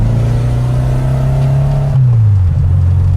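A 1968 Volkswagen Beetle with an air-cooled engine drones steadily and loudly from inside the car as it accelerates. The engine note holds level, then drops as the gears shift, and a continuous engine and road hum stays underneath.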